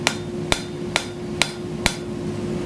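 A hammer strikes hot steel while forging a feather bowl, five sharp, evenly spaced blows about half a second apart, close and clear over a steady background hum.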